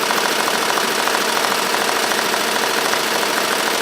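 An embroidery machine stitching an applique design onto a tote bag at about 800 RPM, a loud, dense, continuous rapid mechanical chatter with a fast even rhythm, close up and without speech.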